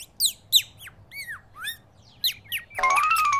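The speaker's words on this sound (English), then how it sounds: "Brown Bird's song makes me really happy." A cartoon brown bird sings: a series of short, whistly chirps and squawks with pauses between them, then a sustained warbling phrase at the end, clear and close against a quiet background.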